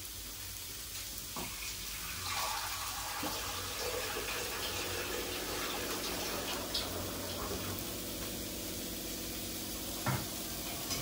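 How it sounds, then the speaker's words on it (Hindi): Water pours into a pan of frying cauliflower, a continuous splashing, gurgling flow at close range over the simmer, fading toward the end with a couple of small knocks. "तो थोड़ी देर भुनने के बाद में इसी में पानी ले लेती हूँ।"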